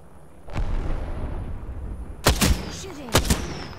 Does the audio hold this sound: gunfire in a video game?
yes